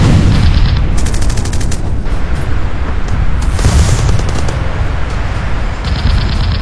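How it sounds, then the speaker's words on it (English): Dense, continuous rumbling blasts and booming explosions, loud and close, with rapid crackling bursts layered throughout like heavy bombardment. "They dropped bombs."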